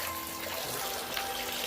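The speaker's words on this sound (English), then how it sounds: "And I spray them off a little bit too." Water from a hose sprays onto Russian tortoises in a dry backyard enclosure, a soft continuous hiss and patter, faint and steady throughout, with no voices.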